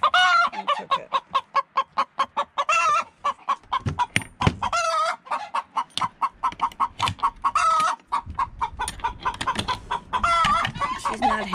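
Chickens clucking loudly and repeatedly at close range, a rapid busy chatter of calls with a few louder squawks mixed in.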